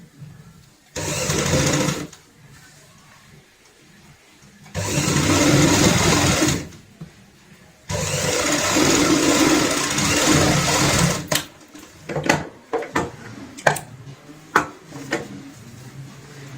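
A home sewing machine runs in three long stitching bursts on a fabric purse, whirring steadily for a few seconds each, then gives way to short clicks and handling knocks.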